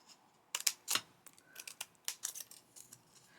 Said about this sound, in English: choose a smaller size scissors like these ones, and just, you know, go there in the corners first